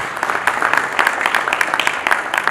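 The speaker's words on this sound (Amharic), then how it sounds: "ሞቅ ያለ ጭብጨባ እስቲ" Warm burst of audience applause at a ceremony honouring a real estate company's leadership award, many hands clapping in a dense, steady patter throughout the short stretch with no other sound on top.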